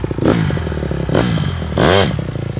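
A Honda CRF150R dirt bike engine revs hard in short bursts during a wheelie attempt, with two rising throttle blips and a steady close idle between them.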